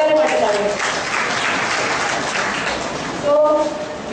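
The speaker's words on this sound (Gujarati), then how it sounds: "પોતાને માટે તાળી." A lecture audience at Vrajdham Temple in Vadodara breaks into loud, sustained applause that keeps an even level, with a voice speaking over it at the start and again near the end.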